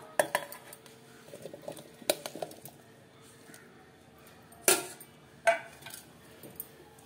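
Cut tomato pieces dropped into a mixer grinder jar, a few sharp clinks and knocks of the jar and utensils spaced out amid quieter rustling handling sounds, close by.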